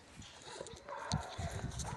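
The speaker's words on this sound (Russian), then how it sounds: "Собаки гавкают со всех сторон, активизировались." Dogs bark from several directions outdoors, the irregular barks mostly distant and faint against open-air background noise, with no talk.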